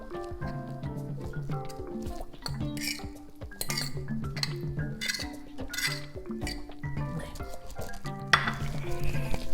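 A spoon stirs and mashes a meatball-and-pea mixture in a metal pot, with repeated clinks and scrapes against the pot sides in an uneven rhythm, plus light sizzling underneath.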